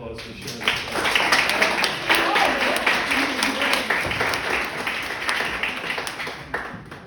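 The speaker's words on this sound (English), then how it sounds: "Let's give Penny a round of applause for sharing this." A round of applause from an audience at an evening gathering, many hands clapping steadily with scattered crisp claps and voices murmuring underneath, tapering slightly toward the end.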